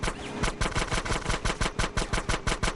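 Rapid automatic gunfire in GTA San Andreas, a steady close burst of evenly spaced shots for nearly three seconds.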